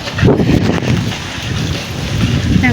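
Wind gusts buffet the microphone outdoors on a sunny walk, a steady loud rumbling roar through the whole stretch with a faint voice in the background.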